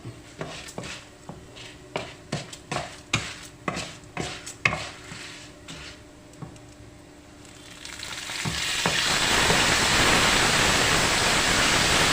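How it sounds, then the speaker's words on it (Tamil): Mint leaves dropped into hot oil in a pan for mint chutney, first a run of light stirring taps and clinks, then a loud, steady sizzling hiss of frying that builds and holds to the end, no voices. "இந்த புதினா சட்னி செய்கிறதுலேயே முக்கியமான பணி என்னன்னாக்க இந்த புதினா வறக்கிறது தான்"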